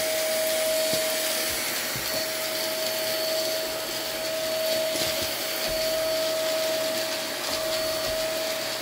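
An iwoly V600 cordless stick vacuum cleaner runs steadily and close by while picking up cookie crumbs from a floor, its motor giving a constant whine with a sharp tone and light rattling and scraping from debris and the head.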